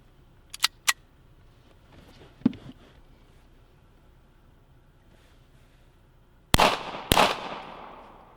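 A gun loaded with two bullets fires two sharp, loud shots about half a second apart, after a few faint mechanical clicks in an otherwise quiet setting.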